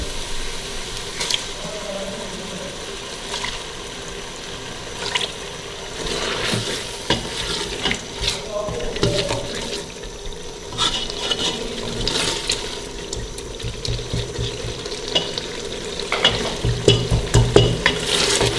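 Keema minced meat stirred and fried in oil with peas, with crackling sizzle and repeated scraping of a spoon against the pot, growing busier toward the end, no talking.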